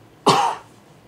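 A single sharp, close cough in a Japanese radio talk studio, one brief burst standing alone against a quiet background.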